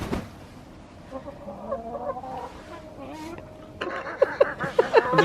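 Chickens clucking in a backyard coop readied for winter, soft scattered clucks and murmurs at first, then louder, closer agitated squawks and clucks toward the end.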